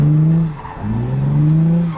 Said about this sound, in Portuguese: Agora eu tô acelerando, o carro tá escorregando pra trás, mano.